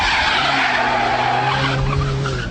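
A Ford Puma's tyres skid and squeal through a 90-degree turn, a loud sustained screech over a steady engine drone, dying back slightly toward the end.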